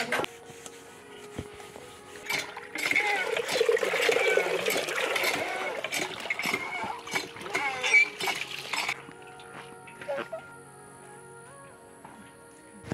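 Water splashes and trickles as dishes are washed at home, a steady broadband wash of running water and clatter that swells in the middle and fades toward the end, with a faint voice in the background.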